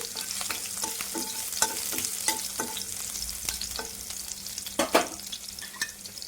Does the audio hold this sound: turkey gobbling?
no